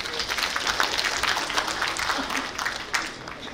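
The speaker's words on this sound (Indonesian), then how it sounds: "Sekali lagi, tepuk tangan untuk SPI." Audience applause at a university rector handover ceremony in Banten, a steady wash of many hands clapping throughout with a faint murmur of voices underneath.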